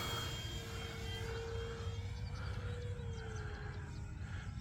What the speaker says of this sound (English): I was a little below half throttle when I banked that, and warbirds don't usually like bank turns slow